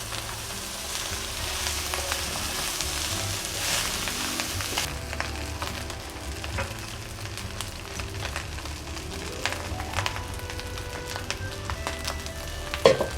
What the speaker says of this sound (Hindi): अब हम डालते हैं इसमें अपने चावल जो हमने बॉईल करके रखे हैं।